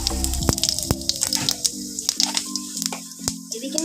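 Whole spices crackle and sizzle in hot mustard oil in a wok, a steady close frying hiss with sharp pops scattered throughout, alongside a faint low hum.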